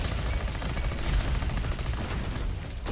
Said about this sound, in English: So we get an explosion from every fourth shot, and also we get an explosion